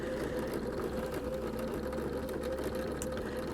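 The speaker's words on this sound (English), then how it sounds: "We just sew over the end and just keep going with that 1/4 inch seam allowance." Sewing machine stitching quilt binding at a quarter-inch seam, running in a steady, continuous whirring hum with a fast mechanical rhythm throughout.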